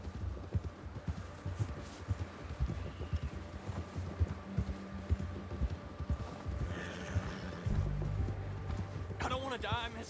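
Horse hooves clip-clop at a steady walking rhythm in the video game Red Dead Redemption 2, moderately loud beneath continuous talking and ambient game sounds.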